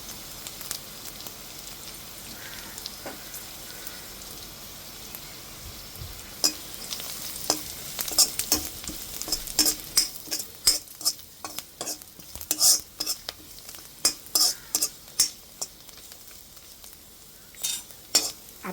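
Onions, peanuts, dry chillies and coconut frying in a kadai, with a continuous close sizzle and rapid repeated scrapes and clanks of a spatula stirring against the pan, growing busier and louder.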